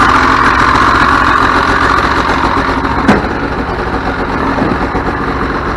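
A 1999 Ski-Doo Formula Z 600 snowmobile, run for the first time after sitting fifteen years, idles with a loud, steady two-stroke drone and a single brief knock partway through, close by with no talking.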